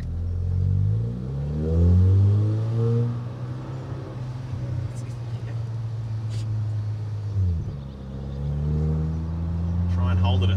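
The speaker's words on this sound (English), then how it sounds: "what that drone is at 3000 revs" A Volkswagen Eos 2.0 TSI engine holds steady at 3000 revs, producing a low, continuous exhaust drone that swells slightly and shifts pitch briefly near the end.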